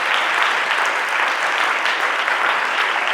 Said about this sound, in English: Y'all clapping for me because you want me to sit down